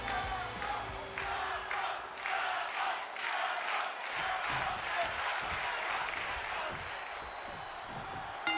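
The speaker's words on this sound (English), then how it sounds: "now as the match started, we got a crowd behind Ciampa" A wrestling arena crowd roars and chants behind a wrestler at the start of a match, a dense, steady wall of cheering with rhythmic pulses, heard from within the audience.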